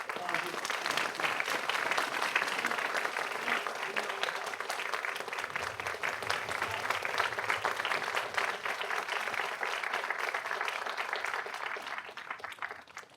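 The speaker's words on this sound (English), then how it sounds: "Give yourselves a round of applause." Sustained applause from a school instrumental concert audience, a dense wash of clapping held steady for the whole stretch with a faint low murmur beneath.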